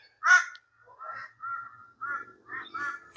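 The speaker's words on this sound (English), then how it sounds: "The crows are loud." Several harsh caws ring out in a loose series, the first one loudest, against an otherwise quiet background.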